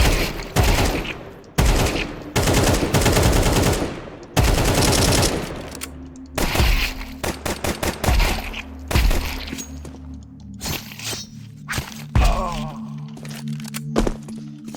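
Rapid gunfire in Counter-Strike 2 target practice on a warm-up workshop map, with dense bursts at first and then sharper separated pistol shots cracking in quick irregular runs.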